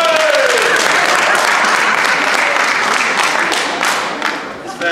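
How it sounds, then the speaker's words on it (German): Sustained audience applause fills a hall during a political Ash Wednesday Lenten sermon, a dense steady roar of many hands that fades slightly toward the end. "Jetzt bitte ich um einen Applaus"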